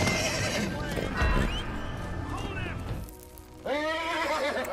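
A horse neighs and whinnies in the animated film Spirit: Stallion of the Cimarron, amid hoofbeats and commotion, with a second loud, wavering neigh near the end and a person talking over it.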